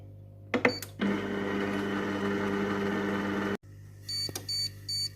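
A Compact Cook Pro M6 multicooker beeps as its settings are entered, then its motor whirs steadily at low speed for a few seconds, stops abruptly, and a series of short electronic beeps follows.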